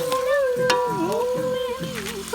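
Tomato and chilli frying for village-style biryani, an even close sizzle with a few sharp stirring clicks, partly under a steady tonal hum, no talking.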